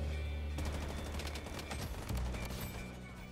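Rapid bursts of AUG assault rifle fire in the shooter game BloodStrike, a dense loud volley that starts after a brief lull and runs almost continuously, with sharp reports layered over a heavy low rumble.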